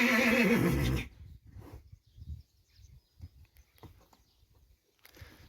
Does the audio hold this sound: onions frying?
no